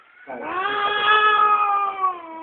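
A single drawn-out cat meow, loud and close, rising then holding a long wavering yowl for about two seconds.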